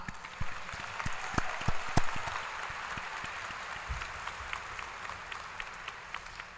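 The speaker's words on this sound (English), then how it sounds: "Can we give one big round of applause to these seniors" A large crowd applauds graduating seniors at a Mount Mercy commencement ceremony for the class of 2025, with dense, sustained clapping and a few louder individual claps standing out.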